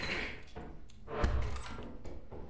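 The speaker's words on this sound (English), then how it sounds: "I hate the door sound. It scares the crap out of me." A door in the game Lethal Company opening with a dull thunk and a brief scraping slide, heard at moderate volume among quiet ambient noise and small knocks.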